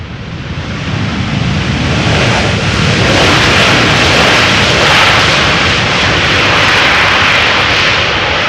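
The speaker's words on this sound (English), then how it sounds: "Cathay Pacific, I should say. Arriving from Dubai. Boeing 747-800." A Cathay Pacific Boeing 747-8 arrives at Amsterdam Schiphol from Dubai, its dense jet roar loud and close, rising slightly and then holding broad and steady throughout with no talking.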